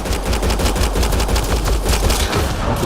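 Rapid, loud automatic gunfire in the sci-fi shooter Mass Effect: Andromeda, a dense, continuous volley of shots filling the whole moment with no talk.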